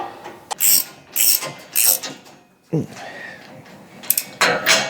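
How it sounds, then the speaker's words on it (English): Ratchet clicking as it tightens nylon-insert lock nuts on a 6x8 utility trailer tailgate being reinforced, with several quick bursts of close metallic ratcheting separated by short pauses. "I do have the nuts with the nylon inserts. Torque this down."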